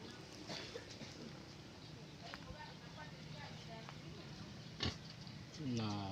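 Pigs kept by Sumba people in a village setting grunt and snuffle repeatedly at close range, with a few sharper squeals near the end, under steady background noise and a voice talking.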